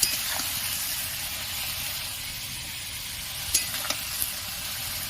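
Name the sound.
food frying and being stirred in a pan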